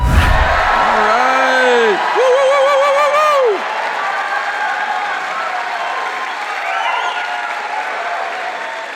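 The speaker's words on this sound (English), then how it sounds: "What you're hearing, the cheering you're hearing is from our platinum attendees at the EntreLeadership Summit" Summit attendees in a large hall cheer and applaud, a dense wash of clapping with whoops and yells over it, loud and close at first, then easing into steady applause.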